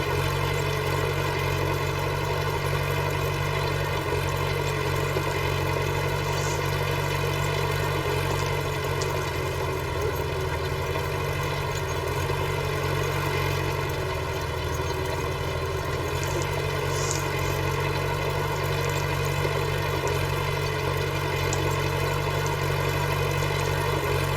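A 1965 tractor idling in a misty wheat field, a steady low diesel rumble with constant mechanical drone and no change in pace, close and loud for the whole stretch.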